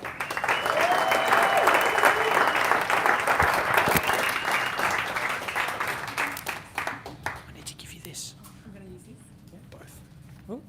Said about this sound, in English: So a massive round of applause for Megan Donald.